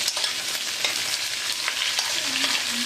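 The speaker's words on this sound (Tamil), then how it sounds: "3 தக்காளி அப்படியே போட்டு வதக்கிறதுனால நல்லா வதங்கும்." Whole tomatoes, shallots and garlic sauté in a pan with a steady, close, crackling sizzle and no voices.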